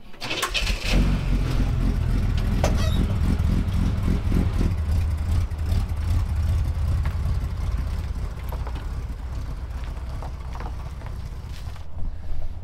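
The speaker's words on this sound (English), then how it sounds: "Those dang kids and their loud mufflers." A car with a loud muffler revs hard right up close, its deep engine roar filling the opening seconds before easing to a steady rumbling idle, with a few birds calling faintly in the background.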